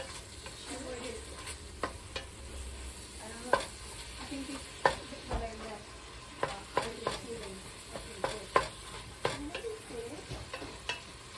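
Busy kitchen noise while holiday stuffing is cooked: steady sizzling and frying with irregular clanks and scrapes of utensils, moderately loud and close, with no clear talking.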